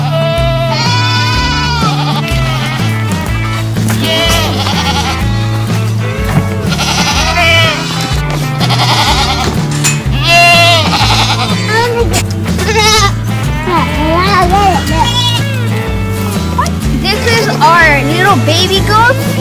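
Several baby goats and their mothers bleat repeatedly, overlapping high wavering cries close by, with people talking in the background throughout.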